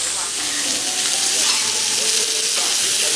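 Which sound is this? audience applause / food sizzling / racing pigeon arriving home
food sizzling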